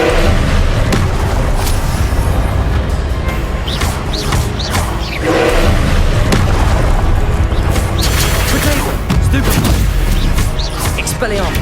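Confringo spell explosions from the video game Hogwarts Legacy boom over and over in a dense, loud barrage. Shouted spell incantations are heard alongside them, and continuous game music and effects play underneath.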